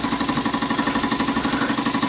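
A scratch-built model steam engine, fired by an oversized three-wick burner, runs with a steady, fast rhythmic chuffing and mechanical clatter, close and even throughout.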